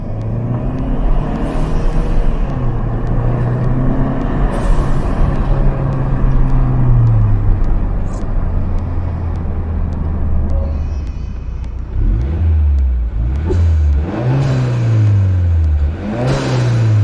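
A Hyundai Sonata N Line fitted with an ADD W1 blow-off valve accelerates hard in second gear, its engine rising in pitch repeatedly through revs, loud and close, with brief whooshing releases between pulls.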